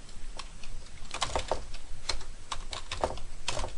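Fingers tap on a computer keyboard in irregular bursts of quick, close clicks while someone edits text in a wiki, the keystrokes clustering in small flurries with brief pauses between them.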